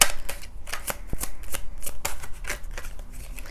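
Tarot cards shuffled and laid out during a pick-a-card reading, a steady run of crisp riffling flicks and soft slaps at close range with no one talking.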